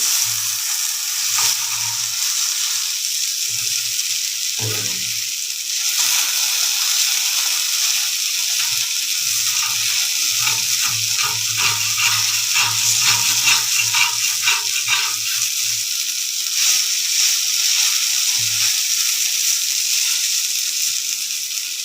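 Potatoes with a little oil and turmeric fry in a pan with a steady, loud sizzle that runs through the whole stretch, with occasional clatter and scraping of a spatula close by and no voices.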